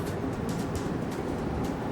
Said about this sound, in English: Oh, there's a train on the tracks.